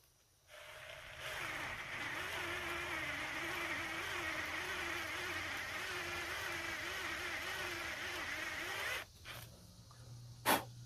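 A 1/2-inch drill bit boring into wood for a fatwood ferro rod handle, a steady whining motor drone with a wavering pitch that runs for about eight seconds and then cuts off, followed by a few small knocks.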